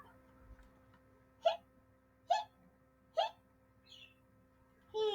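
A skeleton character's hiccups performed aloud during a Halloween picture-book reading for a pre-K class: four sharp, evenly spaced hiccup sounds about a second apart, voiced by the reader imitating them, close and clear over a quiet room.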